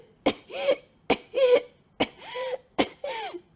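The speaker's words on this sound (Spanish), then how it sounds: "Eso es una tos claramente inefectiva que requiere nuestra actuación" A first-aid demonstration of the ineffective cough of a choking child: four weak, separate coughs at an even pace, each trailing into a strained, voiced wheeze, close and clear against silence.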